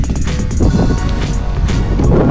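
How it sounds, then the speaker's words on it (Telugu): Strong wind at a hilltop temple near Siddipet buffets the microphone in a steady low roar, broadband and loud throughout with no pauses. "గాలి మాత్రం చాలా బాగా వస్తుంది."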